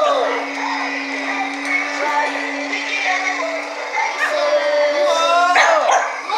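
A Wiggles dog toy from the Mickey Mouse Roadster Racers line gives electronic barks and yips over a steady mechanical hum, with excited voices talking over it.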